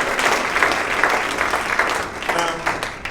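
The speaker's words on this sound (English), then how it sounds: "Let's give a round of applause for your host and all the comedians that you've seen." Comedy club crowd at Hyena's in Dallas clapping for the host and comedians, steady loud applause filling the room with a voice audible through it.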